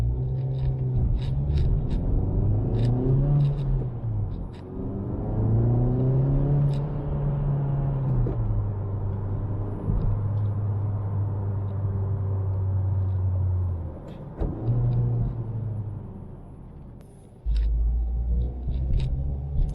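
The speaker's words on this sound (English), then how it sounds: "how much noise is being pumped into the cabin with the sound enhancer thingy turned on" Honda Civic Type R engine heard from inside the cabin in comfort mode with the sound enhancer on, a steady low droning rumble that rises and falls with revs through gear changes, with no talking.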